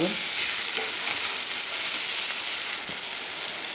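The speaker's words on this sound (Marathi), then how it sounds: "हे मीठ टाकते मी एक एक चमचा पूर्ण मीठ टाकणार आहे आणि छान मिक्स करून घ्यायचं आहे" Chicken masala sizzles in a pan as salt is stirred in, a steady close frying hiss with faint scraping strokes of the spoon, no voices.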